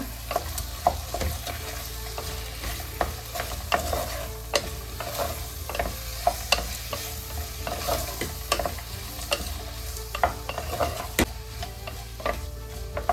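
Salted mushroom pulao ingredients mixed in a pan over the heat: a steady, close frying sizzle runs throughout, punctuated by frequent sharp scrapes and taps of the spatula.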